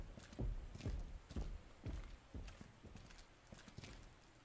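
Mr. X stomping away in the horror game Resident Evil 2: a steady series of heavy, thudding footsteps about half a second apart, strong at first and then growing fainter as they recede.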